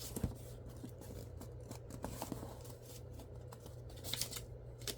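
Scissors snipping through paper while a paper dragon is cut out, a run of quick crisp cuts and rustles at close range over a steady low hum, with no talking.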